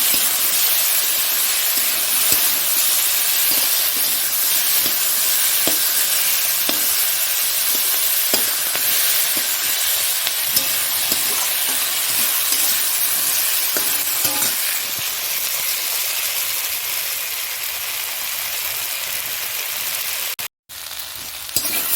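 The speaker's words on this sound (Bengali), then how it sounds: "এবারে নুন আর হলুদ দিয়ে দিয়েছি দেখো" Bhola fish curry with salt and turmeric frying in a pan, giving a steady close sizzle and hiss with occasional stirring clinks, loud and continuous with no talk.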